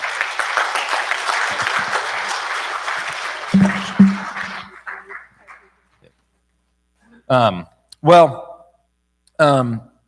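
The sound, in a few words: church congregation applause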